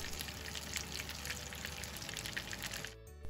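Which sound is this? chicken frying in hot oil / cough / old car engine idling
chicken frying in hot oil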